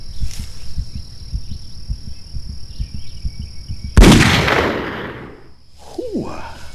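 A single loud gunshot booms out in the GameCube deer-hunting game Cabela's Outdoor Adventures, with a decaying echo after it. Steady chirping insects fill the air before the blast.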